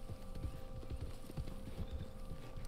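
Horse hooves clip-clop in a steady walking rhythm in the Red Dead Online video game. The footfalls are close and clear over a low background bed, with no talk.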